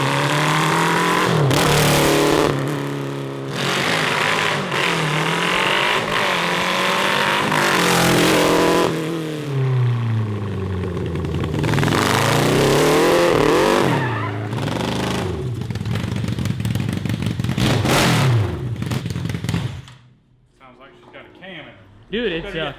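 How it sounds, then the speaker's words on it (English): A 750 cross kart engine with a dual-carburettor setup runs loudly and roughly nearby, revving up and down repeatedly before dropping off near the end. "It doesn't sound awful, and it sounds like it's idling"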